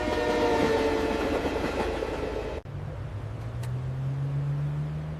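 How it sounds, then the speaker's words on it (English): A train rumbles loudly past a closed road crossing at close range, with steady rolling and rattling that drops away abruptly midway and gives way to a quieter low hum and a faint rising tone. "A train is coming. It should pass soon."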